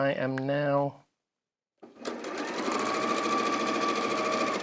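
A domestic sewing machine stitches quilt block pieces together, a steady close mechanical whirr running for about three seconds after a brief voice and a short silence.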